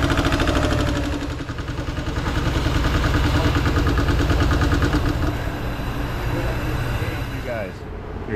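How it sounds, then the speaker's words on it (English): An idling engine runs with a rhythmic, odd ticking that could come from a metallic fault or an exhaust leak, steady and close, with talk over it. "I can't tell if it's metallic or if it's some kind of exhaust leak. This is a very odd sound to me."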